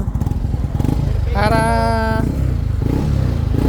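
A motorcycle engine warms up on a dyno bed with a loud, close, steady idle rumble throughout. A voice briefly sounds over the engine midway.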